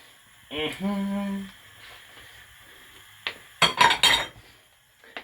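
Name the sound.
chopped beetroot put into cooking pot for borscht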